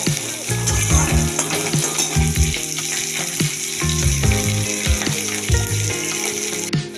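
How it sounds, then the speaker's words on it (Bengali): Vegetables frying loudly in a hot pan for a rohu fish curry, a steady close sizzle with intermittent scraping and knocks as they are stirred, continuous throughout. "সবজিতে অল্প নেড়ে নেবো একটু ভেজে নেবো একটু কষিয়ে নেব"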